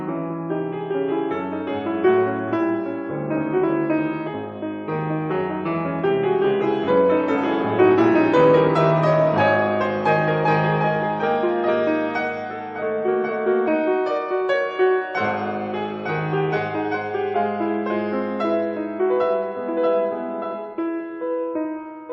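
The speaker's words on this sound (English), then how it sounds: "listen to this section of Chopin's Fourth Ballad" Piano performance of a section from Chopin's Fourth Ballade, dense flowing chords and melodic lines that swell to a fuller, louder passage midway before softening, played alone with no talking.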